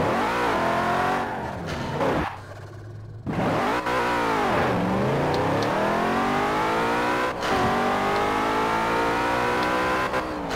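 Car engine revving hard in the racing game Forza Horizon 4, with rising and falling pitch sweeps through gear changes, loud and close, with a short drop in engine noise partway through.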